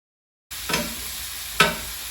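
Chicken pot pie filling browns in a hot pan after a moment of silence, a steady sizzle broken by two sharp scraping stirs about a second apart, close and alone.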